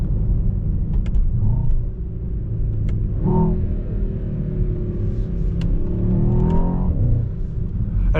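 Mercedes S63 AMG E-Performance V8 hybrid engine downshifting through gears while driving, a steady low rumbling drone with brief rising engine blips at each shift, heard from inside the cabin.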